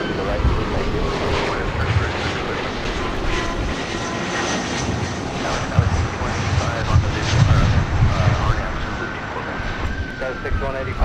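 A CRJ regional jet at LAX roars steadily with engine rumble and wind buffeting across the microphone, a continuous broadband drone that swells slightly midway, with a voice talking over it.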